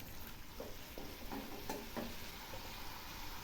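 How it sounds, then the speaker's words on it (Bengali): Spices sautéing in oil for mourola fish jhal, a Bengali small-fish curry, with vegetables in the pan: a faint, soft sizzle with a few light stirring clinks, heard alone. "এগুলি এখন খুব ভালো করে কষিয়ে নেব।"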